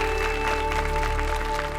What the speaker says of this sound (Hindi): सारी बहुओं के शानदार परफॉर्मेंस के लिए जोरदार तालियां हो जाए।